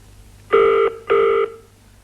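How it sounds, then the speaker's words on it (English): A telephone line rings out twice, two close, loud electronic ring bursts of about a third of a second each separated by a short gap, over faint background hum. "It's ringing out."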